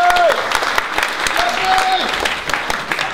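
A crowd at a Santa Cruz rally against the NDAA claps loudly and steadily for about three seconds, with scattered voices and cheers mixed in.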